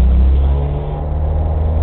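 A small aircraft's piston engine revs for an engine clear before a mountain landing, a loud, close, low droning roar that holds steady for about two seconds with no talk.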